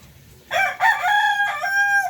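A farm rooster crows at close range, two rising calls followed by a long sustained cock-a-doodle-doo, loud and clear over a quiet background with no talk.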